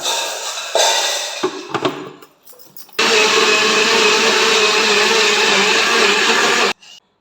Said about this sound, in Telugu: ఇప్పుడైతే మిక్సీ చేసేస్తాను.